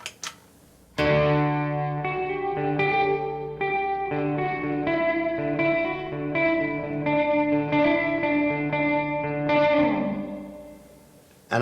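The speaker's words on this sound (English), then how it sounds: "Now this is with the reverb from the reflecting pull." Clean electric guitar through a pedal board reverb set very large, chords and arpeggiated notes ringing out with a long wash of sustain, close and loud, fading into a lingering tail at the end.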